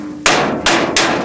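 Three loud, evenly spaced metallic bangs on the handles of a South African Class 15F steam locomotive, number 3094, each a sharp hammer-like strike ringing briefly in a close, quiet setting.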